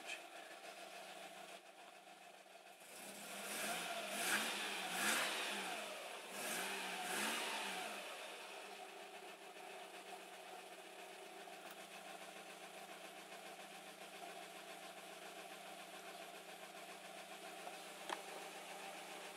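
An Alfa Romeo 156 1.6 TS runs on LPG with Vialle gas injectors after a fault with damaged injectors was repaired. It revs briefly a few times, then settles into a steady, faint idle.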